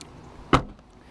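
A 2017 Ford Fusion SE Hybrid door shuts with a single close, solid thump in a quiet setting, its energy decaying over a fraction of a second; no separate alert tone stands out clearly.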